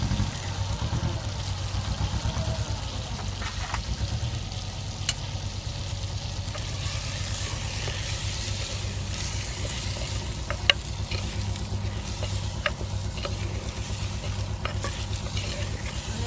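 Continuous dense sizzling of spices frying in hot oil, close and even throughout, with occasional faint clicks of a spoon; nobody speaks.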